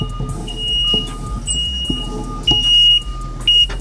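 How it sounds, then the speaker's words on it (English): Several short electronic beeps chirp at irregular intervals over a low background hum, some high-pitched and piercing, one pair sounding close together. "We're having a beep off battle."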